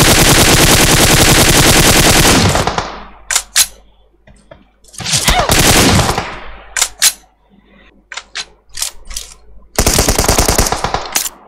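AKM and M416 rifles firing in a PUBG duo match during a hospital fight: a long loud automatic burst, then scattered short single shots and quick bursts, ending in another sustained volley.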